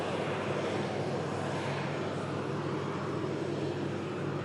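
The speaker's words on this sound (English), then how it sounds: "On the taxi out now, we have the Air France 220 we saw arriving in earlier." An Air France A220 airliner taxiing out gives a steady, broad jet-engine roar that holds even and unbroken from start to finish, with no voices over it.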